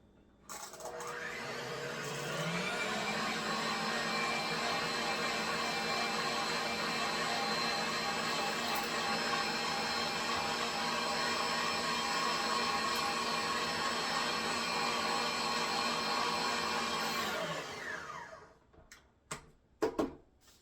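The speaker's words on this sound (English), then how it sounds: "all you want to do now is mix this just until the flour is incorporated" Electric mixer blending gluten-free pumpkin roll batter just until the flour is incorporated, a steady whirring drone that starts up, runs evenly for about fifteen seconds, then winds down, followed by a few light clicks.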